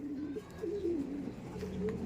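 Pet pigeons or doves cooing and calling in a steady, restless stream from close by, with no talk over them.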